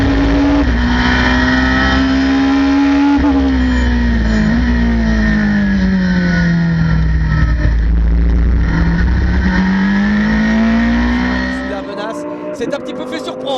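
A Porsche race car during a Le Mans GT Tour race, heard from onboard, drones loudly and steadily as the engine pitch rises and falls through gear changes, then drops off near the end.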